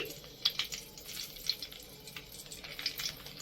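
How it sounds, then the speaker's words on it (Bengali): Four dried red chillies hit hot mustard oil in a pan, giving a soft, close sizzle with small irregular crackles and pops. "তেল গরম হয়ে গেছে, আমি 4টে শুকনো লঙ্কা চিড়ে দিয়ে দিচ্ছি।"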